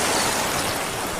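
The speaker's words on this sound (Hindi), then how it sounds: "समंदर की आवाज और तेज होती जा रही थी।" Sea waves on a beach at night, a dense, steady wash of surf noise that is loud and continuous, with no voices.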